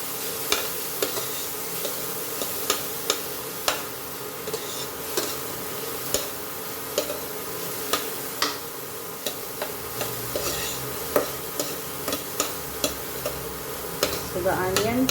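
Onions dry-frying in a pan with no oil, for a Goan milkfish curry. A faint dry sizzle sits under repeated sharp scrapes and taps of a spatula against the pan, falling into a loose, regular stirring rhythm.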